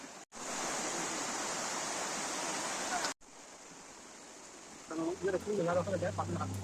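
The Jhyampal waterfall in Nepal roars as a steady, broad rush of falling water close by, briefly cut twice, with a person talking over it near the end.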